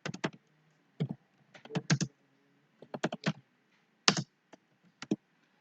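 Keys clatter on a computer keyboard as code is typed, close and crisp, in short irregular bursts of several taps separated by brief pauses.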